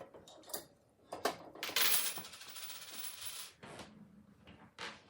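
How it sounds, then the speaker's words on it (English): Nickels rattle down and drop out of a payphone coin controller's return chute in a short metallic clatter, close and alone with no talk. "Coins are returned."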